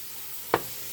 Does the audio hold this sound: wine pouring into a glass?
no